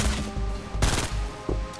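Gunfire in the video game Fortnite, a fast burst of several loud, sharp shots with a heavy blast near the middle and another shot near the end over constant game ambience.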